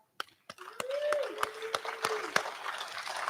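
Friends of the late Dr. Derek Wilson clap their hands together at a memorial celebration of his life, a scattered burst of claps swelling into steady group applause, with a sustained tone and faint voices mixed in.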